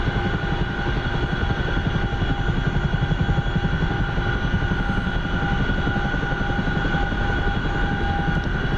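Steady, loud CH-47 Chinook helicopter rotor drone with a constant engine whine in the DCS flight simulator game, continuous throughout with no pauses.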